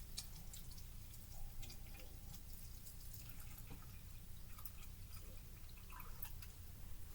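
Water is poured into a container marked with a max line, making a faint, steady trickling and splashing that runs the whole time with no voices.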